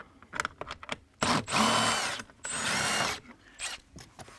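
A power drill unscrews hood latch release lever screws on an Infiniti G37 Coupe, two close whirring bursts separated by short pauses and small clicks.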